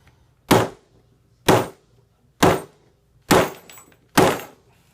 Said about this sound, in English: I'm just going to slam this against the table very hard to kind of simulate a fall